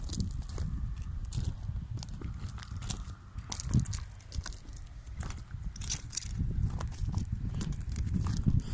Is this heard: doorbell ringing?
no